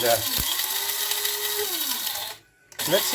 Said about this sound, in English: the peppercorns and the coriander, and that's what it looks like when it comes out of the little blitzer